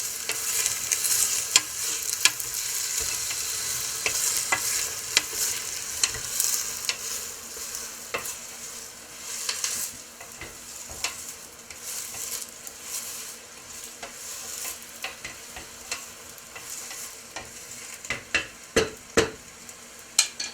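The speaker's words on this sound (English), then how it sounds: "We're going to get them started. Mix in all of that olive oil." Onions are stirred in olive oil in a pan: a soft continuous sizzle under repeated spoon scrapes and knocks against the pan, growing sharper and louder toward the end, close up and without speech.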